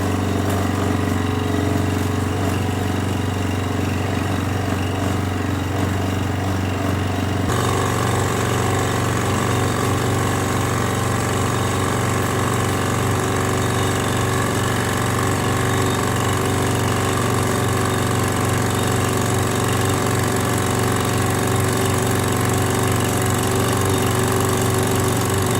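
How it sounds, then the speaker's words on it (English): A milling machine plunge-cuts a motor mount part for a Sieg mini lathe rebuild, giving a steady, loud mechanical drone that stays constant throughout, with a slight shift in tone partway in and no talking. "So we're just going to use the mill here and plunge cut"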